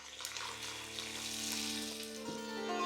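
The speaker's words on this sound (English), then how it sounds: "next to go in is all of that fresh garlic and the ginger. Fry that out." Fresh garlic and ginger sizzle steadily in hot oil for a 1970s-style restaurant chicken curry, a close, continuous frying hiss with no talking.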